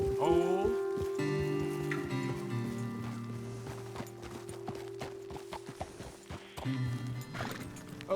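Horse hooves clip-clop at a walking pace over sustained tonal music in the video game Red Dead Redemption 2, with a brief whinny near the start.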